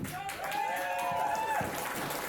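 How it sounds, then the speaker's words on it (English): An audience at a farmers' rally gives a round of applause, steady clapping with voices mixed in, moderately distant and fairly soft. "Big round of applause for Fred"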